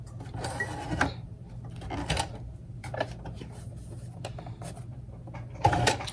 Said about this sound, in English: Do my back stitch.